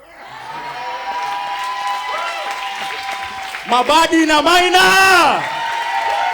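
Live audience clapping and cheering loudly with shouts and whoops swelling into a dense burst midway, preceded by a voice speaking over a steady crowd murmur.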